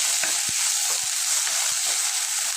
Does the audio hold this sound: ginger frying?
yes